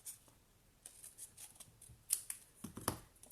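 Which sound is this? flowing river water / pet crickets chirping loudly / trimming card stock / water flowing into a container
trimming card stock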